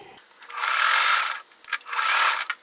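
Sewing machine stitching quilt block pieces, two short bursts of rapid mechanical whirring separated by a pause with small clicks of fabric handling.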